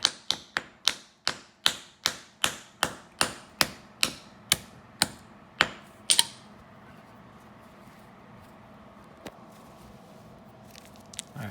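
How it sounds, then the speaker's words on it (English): A hammer crushing rock wrapped in an old towel: around sixteen evenly spaced, muffled thuds in a quick steady rhythm, then a pause with a few scattered faint knocks. "gonna use it to keep all of that rock there when I crush it with a hammer."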